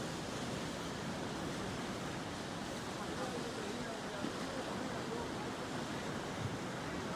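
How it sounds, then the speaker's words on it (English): Ocean waves at a beach make a steady, soft wash of surf, even and continuous with no voices. "just listening to the waves."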